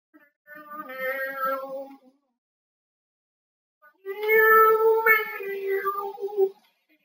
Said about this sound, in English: I thought about this really annoying cat.